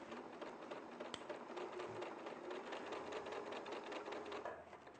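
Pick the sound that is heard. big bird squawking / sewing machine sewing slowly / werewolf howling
sewing machine sewing slowly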